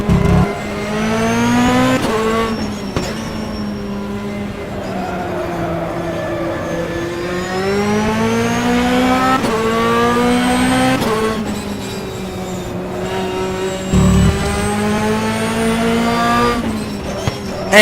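GT2 race cars lapping Mondello Park in rFactor, engines droning loudly and steadily with rising and falling pitch through gear changes, a continuous near roar across the whole stretch with brief shifts and no talk.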